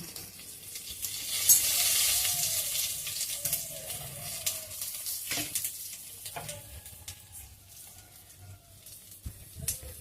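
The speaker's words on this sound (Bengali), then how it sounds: "দিয়ে দিচ্ছি সামান্য তেল, এবারে দিয়ে দিচ্ছি কালো জিরে ফোড়ন।" Black cumin seeds crackle and sizzle in a small amount of hot oil for a Bengali rohu fish dish, a bright steady hiss with a loud burst early on, then softer spitting and occasional clinks.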